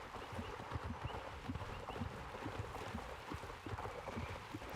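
Horses walk in a video game, hooves clip-clopping in a steady close rhythm under a continuous background bed.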